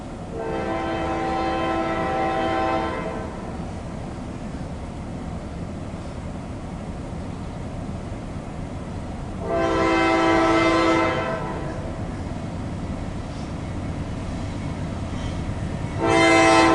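A CSX freight train hauling loaded autoracks sounds its horn in three loud blasts: a long one, a second after a pause, and a short start at the end, over a steady rumble of rolling cars, with no voices.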